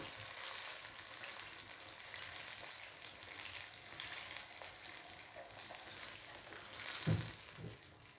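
Sardines sizzle and fry steadily in a hot pan, a dense continuous crackle with a brief louder pop near the end, with no talking.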